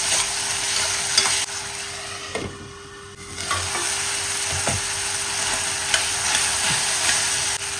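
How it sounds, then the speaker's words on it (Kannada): Onion-tomato masala with salt and green chilli fries in a pan while a spoon stirs and mashes it, loud close sizzling with scraping knocks, a short quieter lull midway, no speech. "ಇವಿಷ್ಟನ್ನು ಚೆನ್ನಾಗಿ ಸ್ಮ್ಯಾಶ್ ಆಗೋ ತನಕ ಚೆನ್ನಾಗಿ ಇದನ್ನು ಫ್ರೈ ಮಾಡ್ಕೊಳ್ಬೇಕು"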